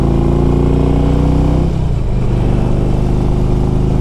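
A 2002 Harley-Davidson Electra Glide Ultra FLHTCUI engine runs loud and close with a steady throb. Its pitch dips and shifts midway, as if during a gear change or throttle change, then carries on evenly.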